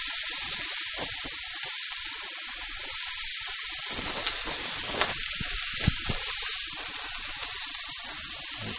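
Fish frying in a hot pan: a steady, close crackling sizzle and hiss throughout, with occasional sharper pops, alone with no talking.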